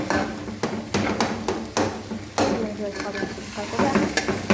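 Food frying in a pan while being stirred and mixed during home cooking, loud sizzling with sharp repeated scrapes and knocks of the spoon against the pan, close up.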